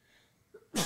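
A single sharp sneeze bursts out near the end, loud and close, after a brief throat sound just before it.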